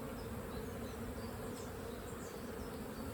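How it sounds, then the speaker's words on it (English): A mass of honey bees drones steadily as they are shaken loose from a brood frame, a faint, continuous buzz with no pauses and no speech. "gentle shake, shakes off most of the older bees"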